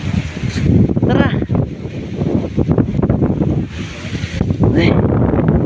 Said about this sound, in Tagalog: ay sarap ng hangin dito